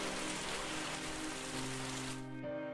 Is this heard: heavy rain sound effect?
yes